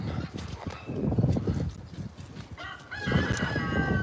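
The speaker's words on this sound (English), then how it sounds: "That's Cupcake Chicken." A rooster crows at an animal sanctuary, a short rising call near the end after scattered clucks, with hoof-like knocks and farmyard noise in the background.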